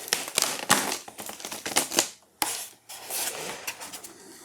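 Cardboard packaging of a 1:1 scale Terminator head replica is torn and opened, a rapid series of sharp rips, scrapes and crinkles close to the microphone, pausing briefly midway before more rustling handling.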